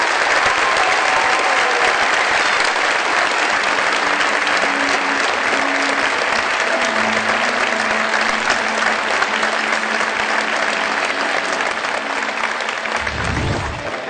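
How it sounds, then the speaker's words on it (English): A large audience at a police department awards ceremony in Phoenix claps in sustained, dense applause that fills the room steadily for the whole stretch, easing slightly only at the very end. "Please honor them tonight with a round of applause."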